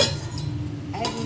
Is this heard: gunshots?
no